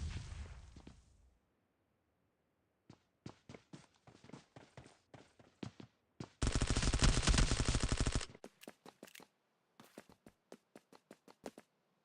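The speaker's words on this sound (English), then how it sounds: "watch the gunfire" Rapid bursts of automatic gunfire in the PUBG Mobile video game, with a long sustained volley in the middle and scattered single shots and short bursts around it, fairly close and punchy.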